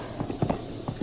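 Hooves clip-clop in a quick run of uneven strikes as a horse moves in The Legend of Zelda: Breath of the Wild, set against a constant high ambient hiss.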